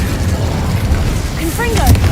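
The Incendio fire spell is cast in the Hogwarts Legacy video game, with a dull rumbling burst and whooshing flame, loud and close, under brief shouted speech.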